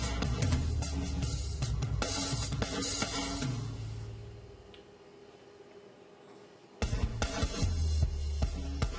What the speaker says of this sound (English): See how it gives that ring, that snare, that extra ring. And all it is just a plate reverb.